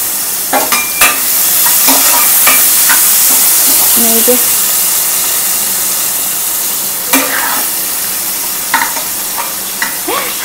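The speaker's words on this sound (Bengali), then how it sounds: "এখন একটু গোটা গরম মশলা দিয়ে দেব। পেঁয়াজ কুচিও দিয়ে দেবো।" Whole garam masala and chopped onion fry in hot oil, giving a loud, close, steady hiss broken by a few sharp clinks and scrapes of stirring.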